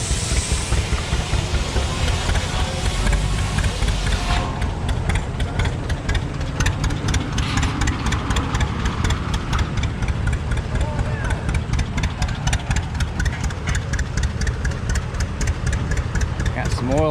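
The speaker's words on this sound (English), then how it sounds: "Climax K67, 7-inch stroke, 7-inch bore, 135 horse at 750 RPM." A vintage Climax K67 stationary engine with a 7-inch bore and stroke, rated 135 horsepower at 750 rpm and formerly used to run a sewer pump, runs at a tractor show. It makes a loud, steady, rhythmic chugging, with faint voices nearby.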